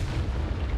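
A Confringo spell blast in the video game Hogwarts Legacy: a deep, rumbling boom that rolls on steadily for under a second, loud and close.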